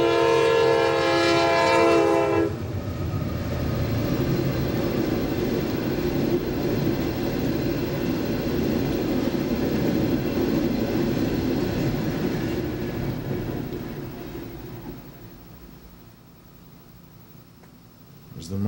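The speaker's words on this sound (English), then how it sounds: "So while this train's about to come" A train sounds a loud, sustained horn blast, then rumbles past with a steady rolling roar of railcars that slowly fades into the distance. Voices are heard faintly in the background.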